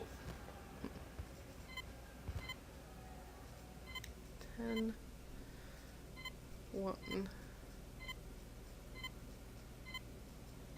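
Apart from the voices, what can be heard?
beeping as a code order is entered in Zork Nemesis video game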